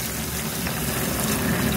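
Water runs steadily into a pan of beef and broccoli seasoned with salt and pepper, a continuous close splashing and trickling with faint sizzling beneath, no talk.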